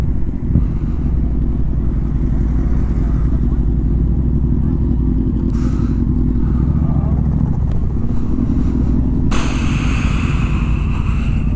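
Motorcycles rumble steadily nearby amid crowd noise and wind at the motorcycle season opening event in Kyiv, with a louder burst of clatter near the end.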